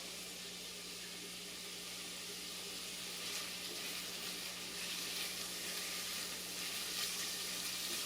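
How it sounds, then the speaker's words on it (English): Onions fry in hot oil in a pot for shrimp bisque, giving a soft, steady sizzle with a faint constant hum beneath, the crackle swelling slightly louder toward the end; no one speaks. "we're just going to put our onions into our hot oil and let them simmer up a little bit"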